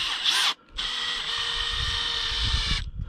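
Power drill driving a large anchor screw to secure a motorhome awning, a steady close whine running about two seconds after a brief first burst and short pause.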